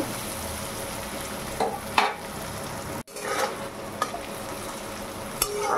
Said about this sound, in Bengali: এবার এটা আদা রসুন দিয়ে ভালো করে গন্ধ যাওয়া পর্যন্ত এটাকে কিন্তু আমি কষিয়ে নিই।